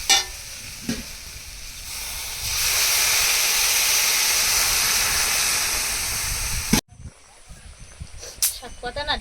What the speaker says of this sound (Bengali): নেড়ে চেড়ে আমি এবার এর মধ্যে জল ঢেলে দেবো